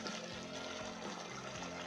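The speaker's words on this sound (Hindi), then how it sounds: "ये गर्म पानी है दोस्तों, यही डालेंगे।" Hot water poured into a mutton curry cooking in a pressure cooker, a soft steady splashing pour with faint liquid gurgles, close and quiet with no talking.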